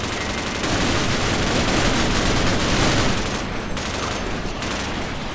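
Sustained rapid gunfire from the game Half-Life, a dense, loud, continuous crackle of shots that eases slightly toward the end, with no talk over it.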